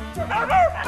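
Short, high yips and whimpering barks from young dogs, close by, overlapping in a quick excited burst.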